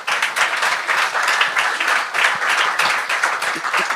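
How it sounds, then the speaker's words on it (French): An audience at a comedy show applauds, dense, steady clapping that stays loud and even throughout, with no talk over it. "Vous pouvez vous applaudir ce soir"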